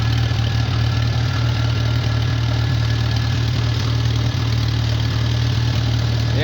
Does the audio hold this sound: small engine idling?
yes